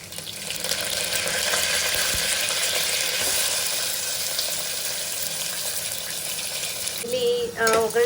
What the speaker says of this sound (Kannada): ಎಣ್ಣೆ ಹಾಕಿ ಅದಕ್ಕೆ ಸ್ವಲ್ಪ ಉದ್ದಿನಬೇಳೆ ಸಾಸಿವೆ ಕರಿಬೇವು ಮತ್ತು ಹಸಿಮೆಣ್ಸಿನ್ಕಾಯಿ ಹಾಕ್ಕೊಂಡಿದ್ದೀನಿ